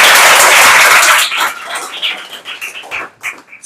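Loud burst of applause from a group of children and adults rewarding a child's correct answer, dense at first and then thinning into scattered claps and voices.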